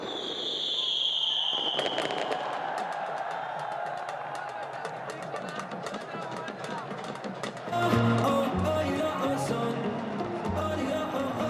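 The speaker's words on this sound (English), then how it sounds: "Things have started off with some fireworks and balloons" Fireworks go off at the opening ceremony of a Bangladesh Premier League cricket match in Sylhet, a dense run of crackling pops and bursts over a stadium crowd, growing louder and fuller partway through, with a voice speaking over them.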